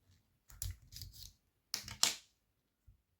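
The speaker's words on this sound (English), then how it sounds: "press down the spring-loaded stopper with your fingernail. Then pull out the emergency key blade." A metal emergency key blade slides out of a VW Touareg key fob, giving two brief clusters of sharp plastic-and-metal clicks and scrapes, close and crisp in a quiet room, followed by a faint final tick.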